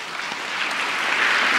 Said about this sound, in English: That applause does creep up on us faster than we might think